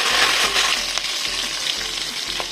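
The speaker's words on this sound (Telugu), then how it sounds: "ఆయిల్ వేడెక్కిన తర్వాత పోపు గింజలు వేసుకొని వేసిన తర్వాత ఎండుమిర్చి" Tempering seeds, dry red chillies and curry leaves splutter in hot oil for an onion chutney, a bright, close and steady sizzle over a low background hum, with no talking.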